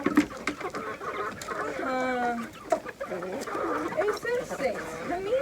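Hens at a home yard cluck steadily while being fed, close and busy, and a person talks over them.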